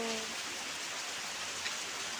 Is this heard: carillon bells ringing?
no